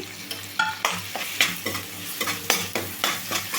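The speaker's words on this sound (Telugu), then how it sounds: "మిరియాలు జీలకర్ర ఇవన్నీ పేస్ట్ని అయితే వేసేసుకున్నాము ఇవి కూడా ఒక రెండు మూడు నిమిషాల పాటు అయితే వేయించుకోవాలండి" A pepper and cumin masala paste fries in oil, a soft steady sizzle broken by repeated scraping strokes of a spoon in the pan, close and fairly rhythmic.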